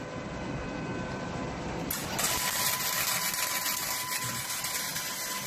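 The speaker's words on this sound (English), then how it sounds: "Now we will start the welding." A MIG315pro MIG welder starts up and runs steadily, a dense buzzing hiss that jumps louder about two seconds in and holds continuous to the end, close and fairly loud, no voices.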